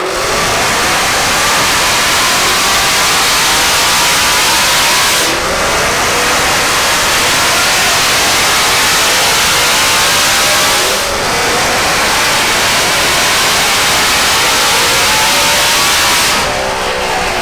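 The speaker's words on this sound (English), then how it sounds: "All right, that thing sounds awesome on the dyno." A 2020 Ford Mustang GT500 with a 3-liter Whipple supercharger revs hard on a dyno in three long pulls, pitch climbing steadily each time before cutting off abruptly, loud and close with a whining supercharged edge.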